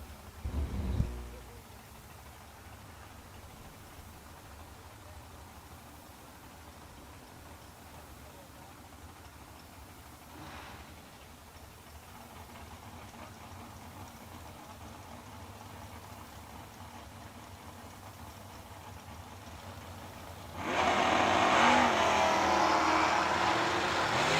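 A Chevrolet Chevelle drag racing car launches at a drag strip event, sounding as a sudden loud roaring blast that cuts in near the end after a long stretch of quiet, distant ambient murmur.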